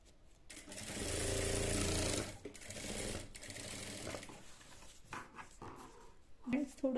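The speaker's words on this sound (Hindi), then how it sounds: "मैं इसके ऊपर सिलाई लगा लूंगी फ्रेंड्स सेंटर में रखते हुए।" A sewing machine stitches a V-neck collar in a loud, steady run of needle clatter that stops and restarts in shorter bursts, with faint handling noises and a brief voice near the end.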